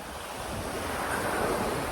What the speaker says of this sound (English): Not sure if you can hear me over the breeze and the waves